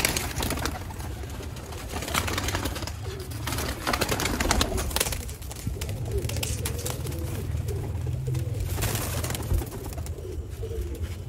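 Pigeons coo repeatedly nearby, soft throaty rolling calls overlapping through steady background noise and rustling.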